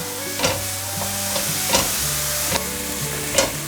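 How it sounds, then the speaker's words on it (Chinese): Potatoes and enoki mushrooms stir-fry in a hot wok with a loud, close sizzle, and the spatula scrapes and knocks sharply about once a second as the food is tossed. No voices. "现在放入金针菇，快速的翻炒"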